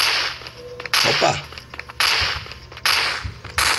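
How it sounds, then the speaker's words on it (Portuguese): Sharp gunshots fired at a monster in the hospital stage of the game Death Park 2, four loud cracks spaced about a second apart over a quiet background. "Dei um monte de tiro nele e não morria."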